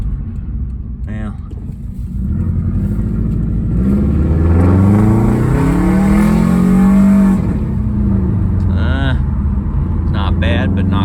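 A 2005 Subaru turbocharged engine with high mileage accelerates hard from inside the car, the engine note climbing in pitch and loudness for several seconds before easing off, with people talking over it.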